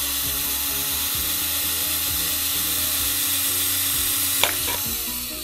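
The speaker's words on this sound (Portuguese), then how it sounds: "estou usando uma broca um pouco mais grossa, vou fazer só dois furos, que é o suficiente" A drill fitted with a thicker bit bores holes into a small seed tray for a homemade seedling tray for sundews and Byblis, giving a steady close whirring grind that ends with a brief sharp squeal.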